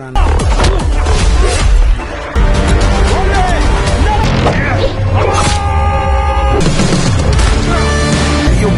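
Loud cinematic gunfire and booming impacts from a film, amid a dense, chaotic soundtrack of crashes and music, with voices mixed in.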